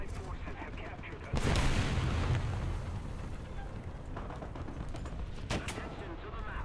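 Artillery shells landing around a tank in a video game, a heavy burst of explosive rumble with further sharp impacts and continuous battle noise throughout.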